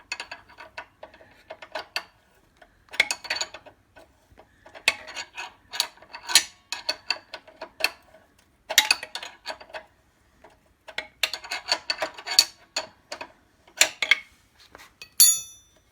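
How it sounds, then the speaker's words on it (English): Metallic ratcheting and clinking in bursts as a spanner works a 3/4-headed footrest bolt loose on a BSA A70 Lightning engine, close and fairly loud, with short pauses between runs of clicks. "Just need to get that 3/4 headed bolt undone for the footrest."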